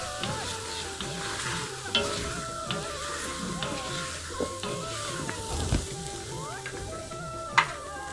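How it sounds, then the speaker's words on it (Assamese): Food cooking with a little water and no oil in an iron wok, a continuous close sizzle with repeated stirring scrapes and a few sharper metallic clacks, with no talking. "লোহাৰ কেৰাহীত বনাইছোঁ"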